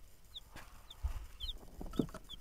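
Small chicks and chickens give several brief high peeps and soft clucks, fairly faint and scattered, with a few low thumps and light background rustle, no talking.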